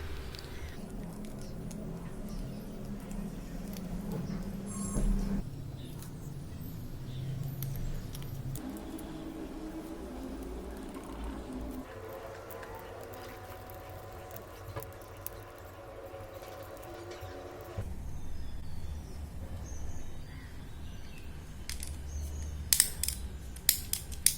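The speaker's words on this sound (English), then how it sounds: "after putting WD-40, the ratcheting mechanism and the Pawl is working smoothly" A Shimano Deore LX SL-M570 bicycle shifter's ratchet and pawl clicking after a WD-40 treatment, with small close mechanical clicks and creaks coming in irregular bursts, fairly quiet, and no voices.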